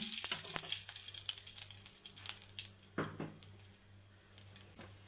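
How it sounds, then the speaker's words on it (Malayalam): Chopped onion sizzling and frying in a hot pan, a bright crackling hiss with a few stirring clicks, fading to quieter sputtering toward the end. "ആദ്യം നമുക്ക് കട്ട് ചെയ്ത സവാള ഒന്ന് നമുക്ക് വഴറ്റിയെടുക്കാം"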